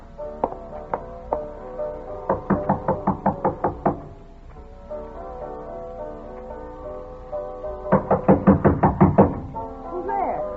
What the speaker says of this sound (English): I walked up to her room and knocked on the door.